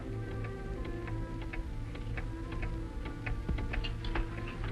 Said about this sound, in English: Cisco, listen to this clock and tell Pancho we hear tickling.